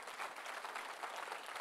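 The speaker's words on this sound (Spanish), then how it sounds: "Da un aplauso al Señor" Worshippers at a Spanish-language church service applaud for the Lord: a soft, distant, continuous patter of many clapping hands, steady and unbroken.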